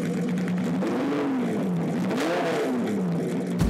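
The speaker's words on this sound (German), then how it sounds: "Du lässt das Auto an und du hast im Standgas schon so ein lautes Gebrüll auf den Ohren" Loud car engine roaring near at hand, its pitch swelling and dropping through two or three strong revs before a sharp thump at the end.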